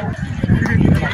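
A horse whinnies close by amid crowd chatter and hoofbeats at the Egyptian pyramids, a busy tourist site with camel and horse rides; the neigh rises over the steady murmur of voices throughout.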